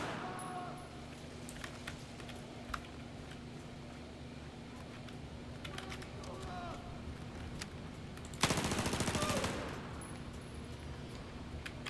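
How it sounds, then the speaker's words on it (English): Gunfire in Battlefield 4 sounds as scattered distant shots under game ambience, then a dense, loud burst of automatic fire lasting about a second near the end, with faint talk in the background. "Someone has to do the good shooting"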